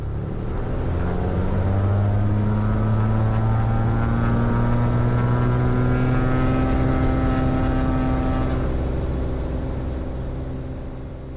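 A light aircraft engine at takeoff power at Dublin, a loud steady propeller drone with rising tones as it builds, then easing slightly toward the end.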